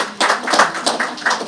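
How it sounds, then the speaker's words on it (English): Audience applause at the Davos 2026 forum for the Prime Minister of Papua New Guinea, heard as a short, close burst of a few hands clapping in uneven rhythm. "Let's give him a big round of applause."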